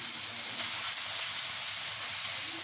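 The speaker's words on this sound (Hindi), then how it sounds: "इसे हम बहुत अच्छा सा कलर आने तक फ्राई कर लेंगे" Chicken pieces with capsicum and onion fry over medium-high flame in a pan, a loud, steady, hissing sizzle that holds without a break.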